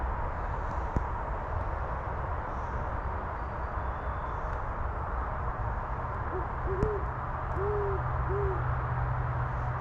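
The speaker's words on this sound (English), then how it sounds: "I heard the owl again." An owl hoots a few times from a distance in a forest, soft calls near the end over a steady background hum of interstate traffic.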